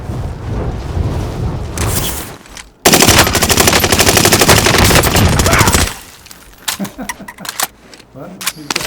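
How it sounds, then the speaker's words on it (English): Rapid automatic gunfire from the Call of Duty video game, loud dense bursts dominating the middle stretch, then scattered shots and effects, with people talking over it. "He's going to shoot at you."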